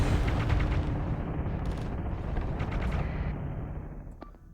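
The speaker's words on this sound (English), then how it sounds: "Sledge guns work." Sledge guns firing in the space combat game Starsector, a loud, dense barrage of rapid heavy shots and booming impacts that rumbles continuously and then tapers off, with no voices.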